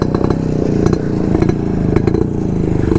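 A Yamaha RX135 two-stroke motorcycle engine runs close and loud, a steady buzzing, crackling drone with brief revving swells throughout, heard on a group ride.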